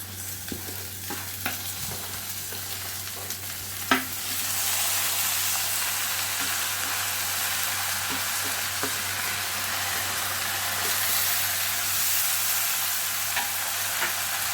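Rice tipped onto browned vermicelli in a hot pot, frying with a loud continuous sizzle and occasional stirring scrapes and knocks, heard close with no talk.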